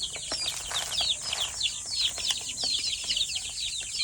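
Pet chicks peep in rapid, high, overlapping chirps while being fed, with soft pecking and wing flutters close by and no talking.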